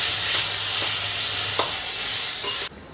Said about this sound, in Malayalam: തക്കാളിയിട്ട് ഒന്ന് വഴറ്റണം